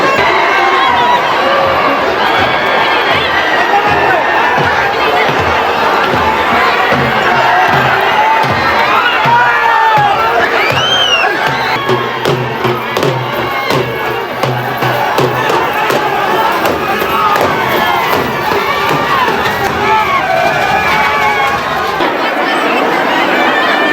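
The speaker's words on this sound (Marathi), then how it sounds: "त्याच आपल्या गावची यात्रेला किती गर्दी बघा खतरनाक" Dense crowd noise at a village yatra festival fair in Maharashtra, a steady wash of many voices, shouts and children's cries close around, with continuous chatter and no single voice standing out for the whole stretch.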